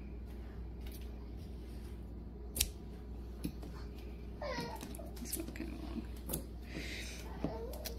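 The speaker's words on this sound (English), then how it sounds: "So all we gotta do now is trim our bias strips." Scissors snip through fabric bias strips on a sewn activity blanket, a few distinct crisp cuts up close, with faint voices and household murmur in the background.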